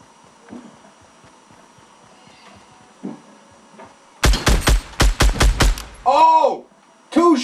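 Gunfire in a Fortnite match, a quick burst of six or so loud, sharp shots in rapid succession after a quiet lull, followed by a short swooping game effect and another blast.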